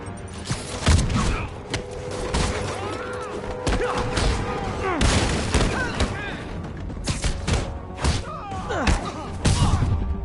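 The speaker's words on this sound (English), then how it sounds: "Grenade!" Explosions and gunfire in a PS4 combat video game boom and crack in dense bursts, with shouted voices over the battle noise.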